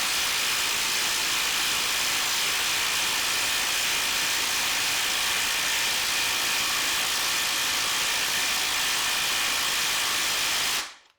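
HART and Ryobi impact drivers run side by side, driving screws with a loud, continuous, rapid hammering buzz that holds steady for about eleven seconds before cutting off abruptly.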